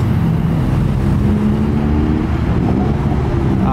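Cars pass one after another at a busy car meet, a steady loud low engine rumble and road roar filling the space without pause.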